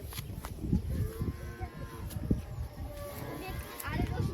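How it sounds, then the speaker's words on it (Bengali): A cow moos repeatedly while running, the low bellows loud and close over footsteps, and people talk over them throughout. "দৌড়তেছে গরু। তাই তো গরু ছুটে আসছে।"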